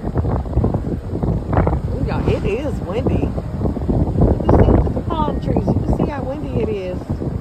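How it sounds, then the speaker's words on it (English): Gusty wind buffets the microphone on a windy Florida street lined with palm trees, a loud continuous rumble while someone talks over it. "You can see how windy."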